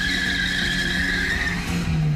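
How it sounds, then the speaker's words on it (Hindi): A motorbike skids about 50 metres along a street at night in Lucknow, Uttar Pradesh, throwing sparks as it crashes: a continuous loud scraping screech with steady metallic grinding, close and unbroken, with no voices. "बाइक 50 मीटर तक फिसलती गई, बाइक में से चिंगारी निकल रही थी"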